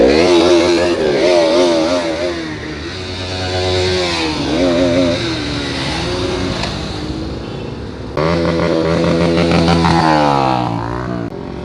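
Several motorcycles idle and rev together as a group of riders gathers for an Independence Day ride to Kimin View Point, engines close and loud throughout with overlapping throttle blips.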